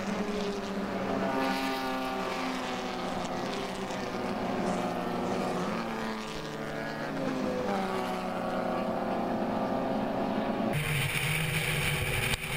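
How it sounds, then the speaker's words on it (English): Spec E30 race cars at speed on a race track, a loud, continuous engine roar with shifting pitch as the cars pass, carrying on throughout with no pause. "The cars are really moving as they come out of Riverside."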